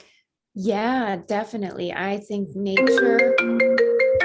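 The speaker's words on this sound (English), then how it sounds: "but that was my phone ringing" A mobile phone rings with a bright repeating electronic tone that comes in near the end. It plays under a woman's ongoing conversational speech.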